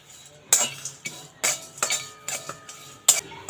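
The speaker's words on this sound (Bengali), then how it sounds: "এবার এগুলো ভেজে নেব শুকনো কড়াইতে ভেজে নেব মশলাটা" Repeated scraping and clinking of a spatula stirring dry spices in a metal pan, in irregular strokes close by, with no talking.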